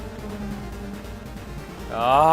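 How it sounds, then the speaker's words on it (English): Buzzing bees swarm in at a boss fight in the dungeon of the video game 3D Dot Game Heroes, a loud rising drone that enters near the end over steady game music. "Ah, bees!"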